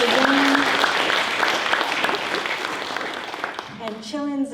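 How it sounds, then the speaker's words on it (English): A reception crowd celebrating graduates gives a round of applause, dense clapping that thins out toward the end as a voice begins speaking over the tail. "let's give a round of applause for Jane"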